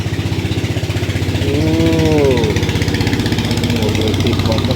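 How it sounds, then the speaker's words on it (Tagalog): A motorboat engine runs on a river, a loud steady chugging drone close by that swells slightly midway, with no speech over it. "Bangkang di motor."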